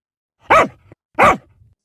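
A dog barks twice, sharp and close, with a pause between the two loud woofs against otherwise silent surroundings.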